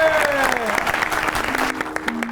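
A studio audience on a comedy show applauds, a brief burst of clapping beneath a voice and some tonal sounds, tapering off toward the end.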